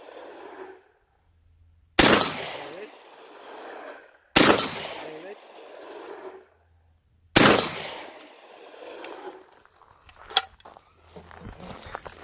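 A HUSAN 20 cal full metal gun fires three loud, sharp single shots spaced a couple of seconds apart, each with a short decaying echo, with soft voices and handling noise in between.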